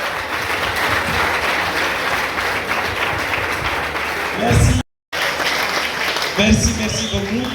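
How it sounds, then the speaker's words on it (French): Applause from a conference audience cheering a laureate at a UNDP environment day debate, with sustained clapping, a brief cut-out in the middle, then the clapping resumes alongside voices speaking. "S'il vous plaît, prenez 5 secondes d'acclamation pour mon vaillant lauréat."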